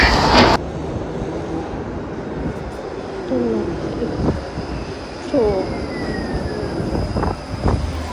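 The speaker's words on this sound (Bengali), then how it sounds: "তো ট্রাম এসে পড়েছে।" Tram arriving at a stop in Finland, a continuous rolling rumble with rising and falling metallic squeals and a faint high whine, heard outdoors with birds calling in the background.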